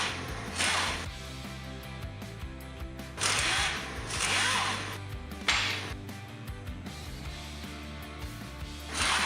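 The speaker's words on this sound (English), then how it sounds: "Pull the 3 bolts out of the factory hook." Power tool working bolts out of a factory tow hook during a rear tube bumper install, heard as repeated bursts of whirring and rattling, close and fairly loud, separated by quieter pauses, with no talking.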